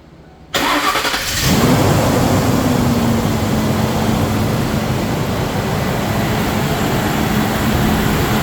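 A 1992–1997 Ford Crown Victoria engine cranks and catches about half a second in, then settles into a steady, loud idle that runs unbroken to the end, with no talking.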